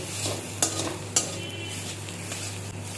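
Cabbage with garlic frying in a pan on a low flame, a gentle steady sizzle with a couple of crisp spatula clinks as it is stirred.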